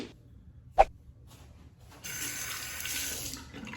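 Tap water runs steadily into a bathroom sink during a wet shave with an Edwin Jagger DE89 safety razor, a close hissing stream that starts after a brief clink and quiet pause.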